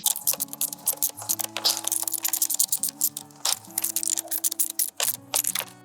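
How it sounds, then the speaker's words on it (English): Mounting hardware for Max Trax recovery boards being tightened on a Winnebago Revel camper van, with close, rapid clicking and ratcheting ticks in quick bursts over a faint steady background hum. "now I will tighten all of this mounting hardware"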